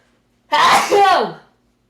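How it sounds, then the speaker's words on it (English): One loud, close sneeze, a sharp intake rolling into a forceful burst, alone in otherwise quiet surroundings. "That was my first sneeze ever."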